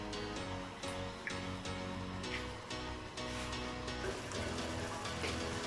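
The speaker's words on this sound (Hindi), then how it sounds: "अब पानी को अच्छे तरीके से उबाल आने देंगे।" Water coming to a vigorous boil in a cooking pot, a steady dense bubbling and hiss with scattered pops, close and continuous throughout.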